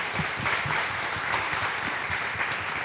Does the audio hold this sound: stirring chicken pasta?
no